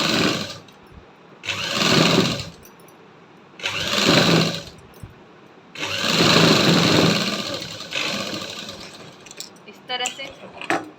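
A sewing machine stitches the sides of salwar cuffs in three sustained whirring bursts, close and loud, separated by short pauses filled with softer handling noise.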